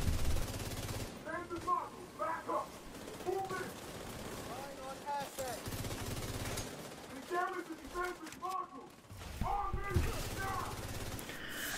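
Video game gunfire aimed at Boomer, bursts of rapid automatic shots repeating across the stretch, interleaved with other in-game effects and a person talking over it.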